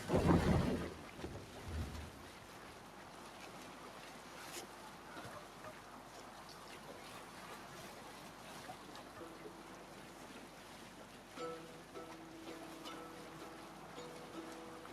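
A Viking ship sails at sea in Assassin's Creed Valhalla, with steady wind and rolling waves around the hull after a loud opening thump, and faint ambient sounds continuing throughout.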